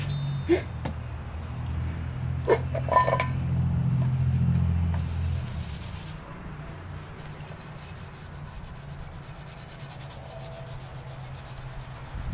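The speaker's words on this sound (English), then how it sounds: "So now I'm going to see if it'll clean my pan that I used last night." A cooking pan being scrubbed with glass cooktop cleaner, a rough rhythmic rubbing that is strongest early on and then keeps going more faintly, with a few sharp knocks near the start.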